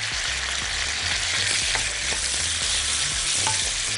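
Chicken pieces frying in browned butter and a little oil in a wok, a steady loud sizzle with crackles and occasional stirring clatter throughout, no voices.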